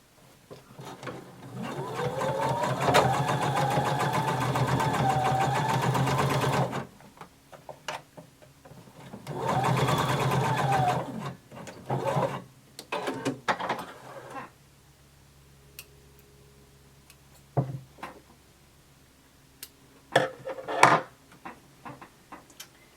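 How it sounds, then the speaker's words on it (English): A sewing machine understitches fabric near the edge of a lining in two sustained runs of whirring stitching, followed by quieter clicks and handling of the machine and fabric. "you're going to sew close to the edge on the lining"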